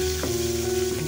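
Catfish pieces fry in hot oil in a pan as they are turned, giving a close, steady hiss and crackle with a brief scrape of utensil partway through.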